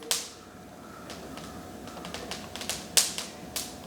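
Small seeds crackle and pop in a hot pan, scattered sharp ticks over a low background hiss, growing a bit busier toward the end.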